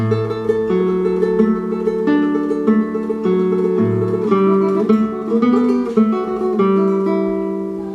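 Classical guitar plays bar 15 of Schubert's Ave Maria in a tremolo arrangement, with clear plucked notes and held bass tones ringing out alone in a close, clean recording.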